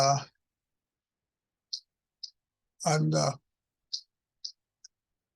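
Computer mouse clicks on a desktop while navigating system settings: several sharp, close, isolated clicks spaced irregularly across a quiet background, with a brief spoken phrase in the middle.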